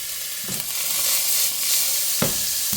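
Onion sizzles loudly in a pan as it cooks toward translucent for a Sunday meat sauce, a dense continuous hiss with a couple of soft stirring scrapes and clunks, close and alone.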